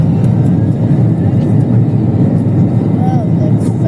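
A Malta Airlines airliner roars on its takeoff run at full throttle, flaps down, heard from inside the cabin as a loud, dense, steady engine rumble, with a voice talking over it.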